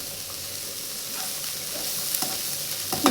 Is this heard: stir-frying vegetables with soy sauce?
yes